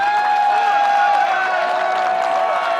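Gallery spectators at the 2024 Des Moines Challenge disc golf tournament applaud and cheer to greet a player. The clapping is steady and sustained throughout, with some crowd noise layered underneath.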